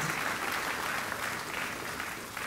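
Sustained audience applause fills a college honors ceremony in an outdoor courtyard, a dense, steady wash of clapping hands from a sizable crowd with no voices on top.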